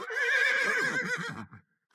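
A horse gives a loud, close whinny, a high shrill call that breaks into shaky descending pulses before cutting off.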